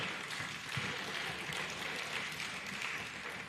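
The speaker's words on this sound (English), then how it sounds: "Please, a round of applause for her." Applause for a guest fills a hall at a state association's annual general meeting and scientific conference in Lagos, a dense, steady wash of many hands clapping throughout, with no talk over it.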